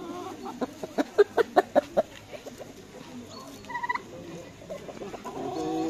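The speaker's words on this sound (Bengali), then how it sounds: "দেশি মুরগি।" Native chickens cluck in a fast run of six or seven sharp, evenly spaced calls near the start, then softer clucks over steady outdoor background noise at a free animal park in Mülheim an der Ruhr, Germany.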